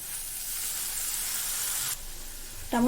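Chopped tomatoes dropped into a hot pan with curry leaves and onions, a close, steady hissing sizzle that dips suddenly partway through, then a voice begins at the very end.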